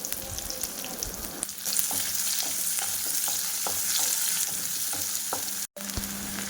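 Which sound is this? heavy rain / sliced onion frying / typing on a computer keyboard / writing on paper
sliced onion frying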